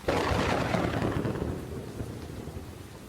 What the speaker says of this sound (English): As a storm rages.